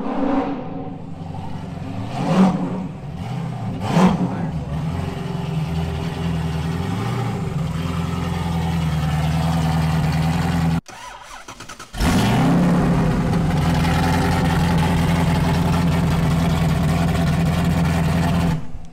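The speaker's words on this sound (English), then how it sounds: "It starts and it runs and it stays started." A Chevy LS3 427 V8 runs loudly up close, idling with a couple of early throttle blips, then cuts out briefly and restarts into a steady, rumbling idle.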